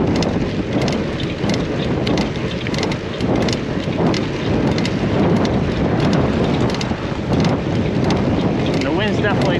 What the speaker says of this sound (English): And the wind's definitely pushing me right now